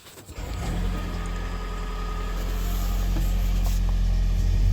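A Toyota Auris 1.8 hybrid powers on in maintenance mode, its petrol engine starting after a brief click and settling into a steady, close, low hum that holds and swells slightly without any talk.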